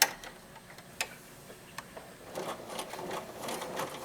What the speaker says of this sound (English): I'll be back at the sewing machine to show you what you do